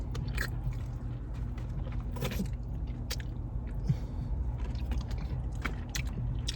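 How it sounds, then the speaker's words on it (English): Ribs from a rib shack are eaten up close outdoors, with repeated wet biting and chewing sounds over a steady low rumble of nearby car traffic. "Just like a rib mukbang."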